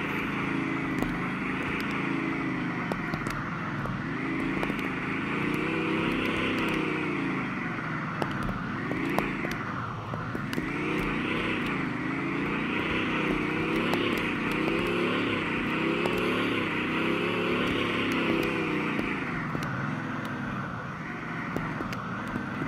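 A Bugatti EB110 Super Sport engine in the Roblox game Mansion Tycoon drones continuously, rising and falling in pitch as it revs and shifts, steady and loud with no talk over it.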